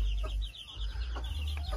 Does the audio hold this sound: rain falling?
no